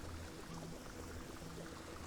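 Water suction tool in Fresh Start Cleaning Simulator, a cleaning game: a steady, faint rushing and gurgling flow of water being sucked up, continuous and even throughout.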